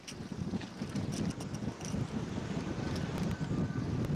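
Strong coastal wind buffets a fishing boat on the water near Charleston, South Carolina, a constant rough, low rumbling roar with gusty surges over light water wash and no talk.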